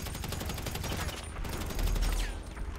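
Rapid automatic gunfire rattles in quick bursts during a GTA V Online shootout on rooftops and a parking garage, dense and continuous, with a heavier low rumble partway through.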